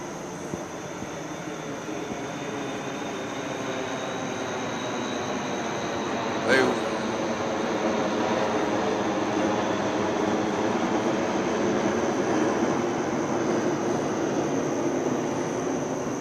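A fighter jet passes over Nashville, its roar a steady, loud broadband rumble lasting throughout, with people talking beneath it.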